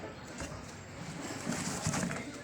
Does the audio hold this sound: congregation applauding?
no